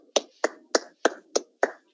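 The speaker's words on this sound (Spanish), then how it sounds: "Un aplauso" Six sharp, evenly spaced claps in a children's taekwondo class, crisp and close, each a single distinct hit with short gaps between.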